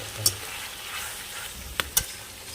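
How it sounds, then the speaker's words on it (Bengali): Spicy red meat being slowly stir-fried and cooked down in a pan gives a steady soft sizzling hiss, with a few brief spatula scrapes and clicks scattered through. "বেশ কিছুক্ষণ কষিয়ে নেব যেন ভালো করে মাংসটা সুসিদ্ধ হয়"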